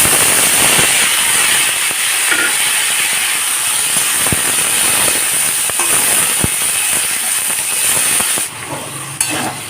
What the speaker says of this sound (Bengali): গ্যাসটাকে লো ফ্লেমে রেখে এই বড়িগুলোকে ভাজবো